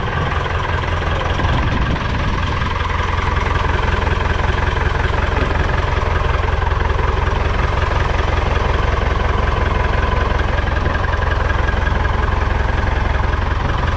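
A Deutz tractor engine, under repair, runs at a steady, loud idle with a continuous low rumble and a slight knocking vibration throughout, no voices.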